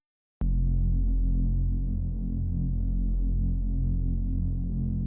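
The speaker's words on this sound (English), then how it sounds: "So I added this bass from Vital." A deep, sustained synth bass note from the Vital synthesizer kicks in abruptly and drones on steadily, thick and humming, with no other sounds around it.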